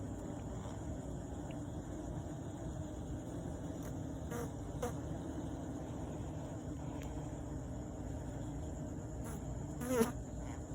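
Worker bees buzz steadily at a beehive entrance, a close, continuous drone with a few louder passes of single insects flying near.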